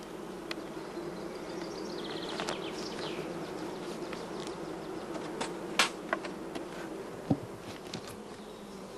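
Honeybees buzz around a hive colony with a newly accepted young queen, a steady, close, dense hum with occasional louder passes of individual bees and faint clicks.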